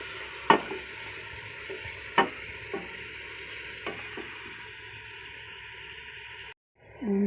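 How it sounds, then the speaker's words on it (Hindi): Tomatoes stirred and fried over high heat in a pan, a continuous sizzle with a few sharp spatula scrapes and knocks early on, ending abruptly. "इसमें टमाटर चलाते जाएंगे, 3 से 4 मिनट तक इसको भून लेंगे"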